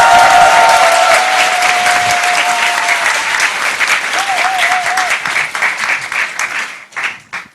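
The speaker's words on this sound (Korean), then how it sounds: "박수 한번 더 쳐주세요." Loud, sustained applause from a crowd at a political talk concert, dense clapping with a few voices mixed in that holds for several seconds before tapering off in scattered claps.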